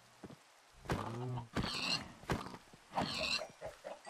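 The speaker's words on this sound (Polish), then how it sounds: "Ja tu świnią tłukłem." Pig being struck in a blocky survival video game, short grunting oinks and thumping hits repeating in quick bursts, fairly close and loud, with no talk.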